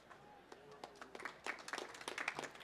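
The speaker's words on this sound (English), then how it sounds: "Hey everyone, thanks for the applause" Audience at a student union elections forum applauding, sparse claps building into a quicker, denser patter of clapping, fairly faint.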